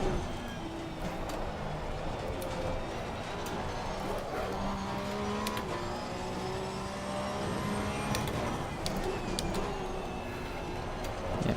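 A Porsche 992 Cup race car on the Brands Hatch circuit in Assetto Corsa Competizione, its engine a steady, dense drone held throughout, with pitch shifting gently as gears change and no clear breaks.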